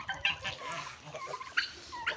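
Young turkeys on a farm give faint, high chirping peeps in short scattered calls, quiet and somewhat distant, with no talk over them.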